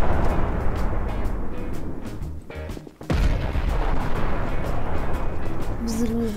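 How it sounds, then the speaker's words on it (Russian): An explosion in Garry's Mod, a sudden sharp blast partway through that cuts across continuous game rumble and gunfire-like noise. "Взрыв."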